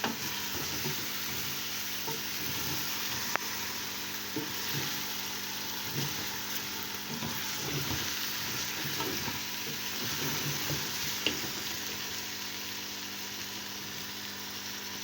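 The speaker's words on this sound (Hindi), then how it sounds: "अब हम इसको तकरीबन बिल्कुल स्लो फ्लेम पर फ्राई करेंगे" Beef paya trotters with onions frying over a very low flame, giving a steady broadband sizzle that runs throughout with scattered soft stirring scrapes and occasional light clicks of a spoon against the pot.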